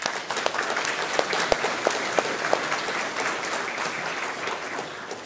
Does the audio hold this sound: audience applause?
yes